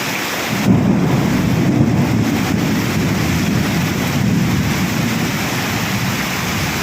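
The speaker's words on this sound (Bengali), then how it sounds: "তার মধ্যে প্রচণ্ড পরিমাণে বাজ পড়ছে" Thunder rumbles low and heavy through a downpour in Kolkata on the day before Mahalaya. The rain keeps up a constant roar while the deep thunder rolls swell and fade beneath it, with no talking.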